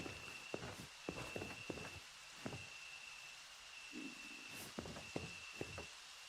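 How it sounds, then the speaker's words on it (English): Footsteps in a wooded survival video game, a series of soft irregular steps over a steady hiss of ambient background noise, quiet and without talk. "I hear footsteps and I'm not moving."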